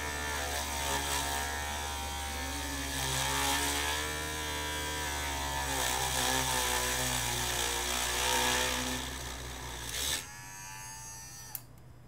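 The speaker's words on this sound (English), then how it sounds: "I'm just drilling a small pilot hole with a rotary tool" A rotary tool whines steadily as it bores a small pilot hole through plastic for a quadcopter antenna, a continuous high buzz with slight pitch dips that cuts off near the end, leaving quiet.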